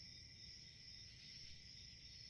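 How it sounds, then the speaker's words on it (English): Crickets chirping in the woods at night, a faint, steady high trill that continues unbroken with no other sounds. "Crickets chirp from the woods, and a chill breeze ruffles the trees"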